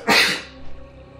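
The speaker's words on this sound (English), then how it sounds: "I gotta sneeze here in a second" A single loud sneeze from a person close to the microphone, sharp and sudden, then a short fading tail into near quiet.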